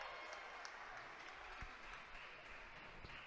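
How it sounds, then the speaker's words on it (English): Crowd at a live professional wrestling event roaring and clapping steadily in an arena, a broad sustained din with a few sharper thuds punching through, heard at a moderate distance. "Listen to this crowd."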